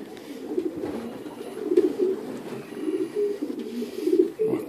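A blue bar long-distance racing homer pigeon coos close up in repeated soft, low throaty phrases, rising and falling irregularly against a quiet background.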